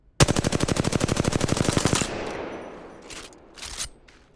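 Rapid automatic gunfire in Apex Legends rattles off as a dense, steady burst of about two seconds, then stops, leaving faint game sounds and a couple of brief noises.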